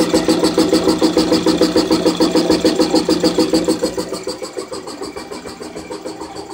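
A 1920s air compressor runs close by with a smooth, even rhythmic chugging, its regular pulses steady and loud before easing slightly softer toward the end.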